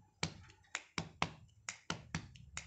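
A steady samba pattern of finger snaps and light hand taps, close and dry, about eight sharp hits over a few seconds with slightly uneven accents and no voices.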